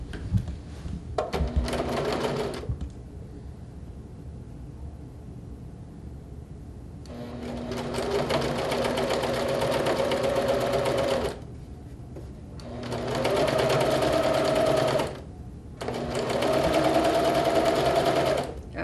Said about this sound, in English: We'll take it to the sewing machine here, and we will sew these pieces together.